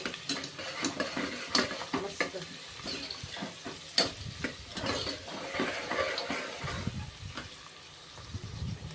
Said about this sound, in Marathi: तर हा अख्खा मसाला तसाच्या तसा घालायचा आहे याच्यामध्ये आणि तो हलवून घेऊया आपण